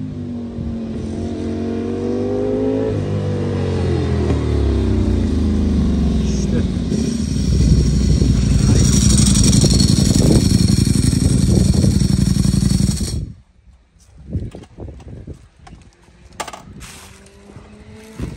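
A sportbike engine, either a BMW S1000RR or a Ducati Streetfighter V4SP, revs up and down near the listener with rising and falling tones and mechanical clatter, then cuts out abruptly; voices talk over it.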